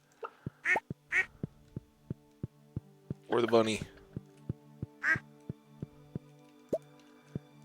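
Game ducks on a Stardew Valley farm quack in short nasal bursts, a few scattered calls over a steady ticking rhythm of soft clicks, with a person talking briefly in the middle.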